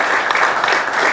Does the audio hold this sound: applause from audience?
yes